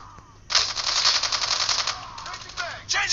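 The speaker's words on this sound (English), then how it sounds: "You can hear the shots, but it's pretty dull." Rapid automatic gunfire in a multiplayer battle royale shooter game, a sustained burst of dull, muffled shots followed by a brief pause and a shorter second burst, loud and close.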